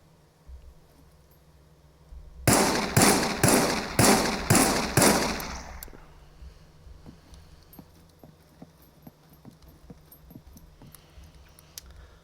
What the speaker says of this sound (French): Alors on commence avec le tir sans viser